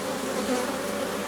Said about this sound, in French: C'est couvert d'abeilles